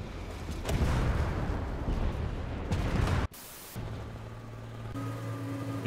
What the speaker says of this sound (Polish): Jeszcze jeden strzał.